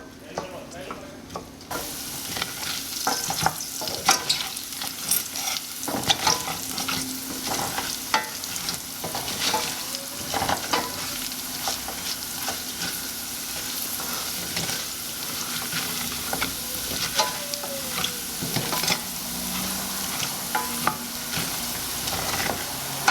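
Rice toasts in a hot pan for Mexican red rice, a close, continuous sizzle broken by repeated scraping stirs, with a brief quiet lead-in before the frying noise starts.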